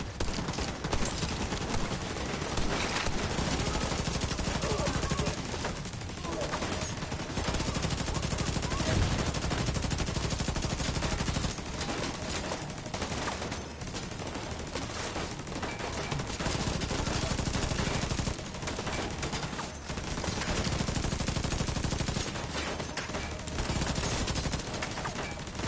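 Enemy gunfire in The Division 2 video game: dense, continuous automatic fire and overlapping shots, loud and close, with brief dips but almost no pause across the whole stretch.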